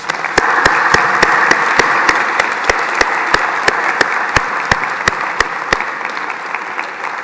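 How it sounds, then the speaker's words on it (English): Loud, close audience applause at a college winter graduation ceremony in Glasgow, dense steady clapping pierced by a regular train of sharp clicks at an even beat. "I think that deserves a big round of applause"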